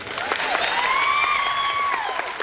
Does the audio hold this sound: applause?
yes